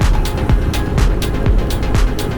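A Royal Enfield Hunter 350 motorcycle lugs along in fifth gear at about 20 km/h with the throttle fully released. It gives loud, regular low thumping pulses roughly twice a second over a steady engine drone.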